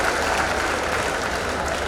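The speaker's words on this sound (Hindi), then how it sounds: "जोरदार तालियां बजाओ रमेश मेंदोला जी के लिए" Audience applauding Ramesh Mendola at a public event for Hukumchand mill workers: steady, dense clapping from a large crowd, sustained without a break and with no talk over it.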